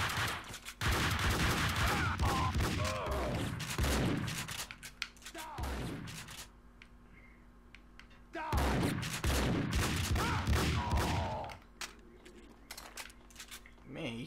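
Gunfire from the video game Max Payne rattles in dense, loud bursts, stopping briefly and then starting again.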